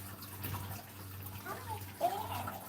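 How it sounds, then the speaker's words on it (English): Water flows into a Gardyn hydroponic planter, a faint trickling and splashing with a brief louder gurgle near the end. "The water is starting from the chives, so there's a lot of water coming in."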